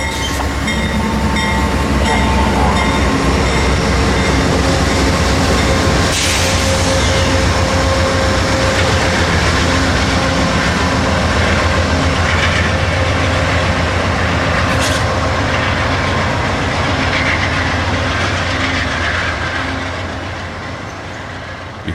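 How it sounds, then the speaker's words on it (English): Amtrak Silver Star southbound passenger train passing a trackside spot in the Tampa area, a loud, steady roar of wheels and cars rolling by for over twenty seconds with faint squeals, fading slightly at the end. "If he's running on time, you'll see the southbound train here around 12:45 p.m."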